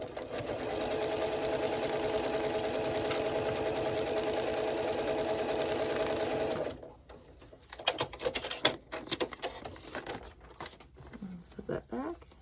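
A sewing machine stitches a foundation paper pieced Wensleydale quilt in a fast, steady mechanical patter for several seconds, then stops, followed by scattered clicks and fabric handling sounds.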